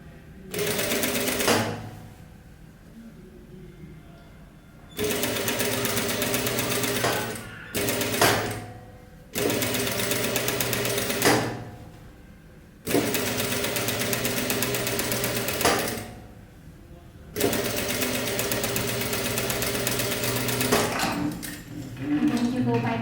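A sewing machine stitches a sleeve onto fabric in loud, rapid runs of several seconds each, broken by short pauses while the material is repositioned.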